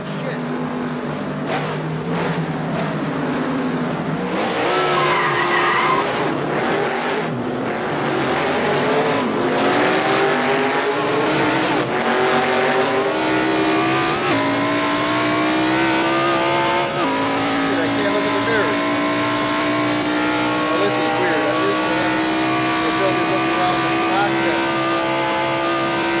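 A Mercedes-AMG C63 drives hard, its engine revving loudly and climbing through gears, with tires squealing and skidding up close, and someone talks over the noise.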